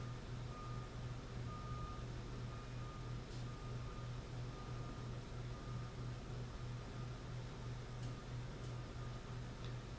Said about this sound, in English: Garbage truck is here.